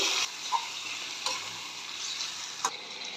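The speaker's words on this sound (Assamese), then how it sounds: "আদা নহৰুখিনি অলপমান ভাজি লৈছোঁ হালধি অলপমান দি দিম এনেকৈ পট লিভাৰ দি দিছোঁ" Pot liver fries with ginger and garlic in a pan, a steady close sizzle with a few sharp clicks of stirring.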